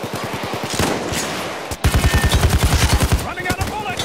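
Sustained automatic gunfire in the heist shooter Payday 2, a steady rapid rhythm of loud close shots that breaks off briefly, then resumes even harder with a heavy, evenly spaced rattle.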